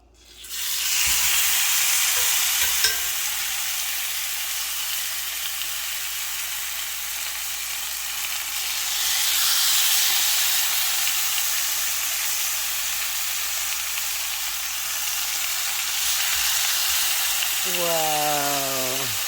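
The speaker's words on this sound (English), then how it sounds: "I'm getting my cast iron skillet hot to cook the steak in" Steak searing in a hot cast iron skillet, a loud steady sizzle and hiss that runs throughout with slight swells, briefly joined near the end by a rising tonal sound.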